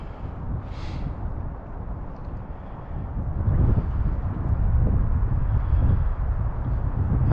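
Cold, raw wind buffets the microphone beside the River Tay in Scotland in March, a loud, continuous low rumble that swells stronger partway through, with no talking.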